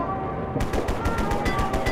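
AR rifle in the War Brokers shooter game fires a rapid burst of repeated sharp shots after a brief quiet start, each report crisp and fairly loud, evenly spaced across the clip.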